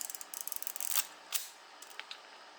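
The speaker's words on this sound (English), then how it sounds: "This lever advances your shutter, but also advances the film, so it's ready to take another shot." Film advance lever being wound on a Pentax K2 film SLR: a rapid train of close ratcheting clicks, then a louder snap as the lever returns and a couple of softer clicks after.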